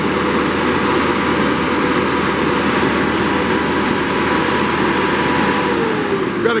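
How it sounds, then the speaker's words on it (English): Perkins diesel engine on a 2006 Dynamic DC-55 disc chipper runs at steady speed, a continuous loud, dense drone with no change in pitch, close by and uninterrupted. "We're gonna go ahead and fire this up and just show you how nice it chips."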